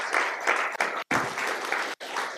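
Audience applause at a Tamil comedy debate (pattimandram) in Madurai, a loud, dense burst of clapping broken by two sharp momentary dropouts, with no speech over it.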